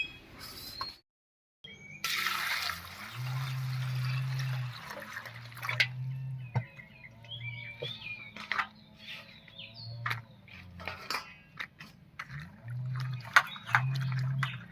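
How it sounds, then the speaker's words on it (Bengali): Camphor, garlic and raw turmeric being washed in water, with intermittent splashing, dripping and sloshing up close and short pauses between, no talk. "এবার আমি সব কিছু খুব ভালো করে ধুয়ে নিচ্ছি"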